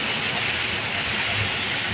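Steady rain drums on a moving truck, a dense continuous hiss mixed with a low rumble of road and engine noise.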